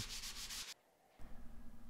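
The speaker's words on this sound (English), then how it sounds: "I grabbed my random orbital sander" A random orbital sander whirs steadily against a 2x4 wood piece, pauses briefly into near silence, then starts grinding again at close range.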